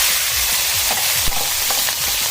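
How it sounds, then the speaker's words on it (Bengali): Salt-and-turmeric-rubbed shrimp fry in hot oil, a loud continuous hissing sizzle with faint spatters and a small knock, steady and close, with no speech. "তেল দিয়ে গরম করে নিয়ে চিংড়ি মাছটাকে দিয়ে দিলাম"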